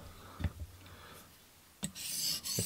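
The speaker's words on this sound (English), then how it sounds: "as I go up in grits, you can hear it smoother and smoother on the edge." A TRC XS Splinter fixed blade drawn along a TSPROF Blitz Pro sharpening stone, giving a few soft, close rasping strokes separated by quiet pauses, a longer brighter scrape near the end.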